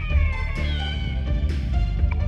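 A cat meows in the video game Persona 2: Eternal Punishment, giving a couple of drawn-out meows over a low, continuous game soundtrack.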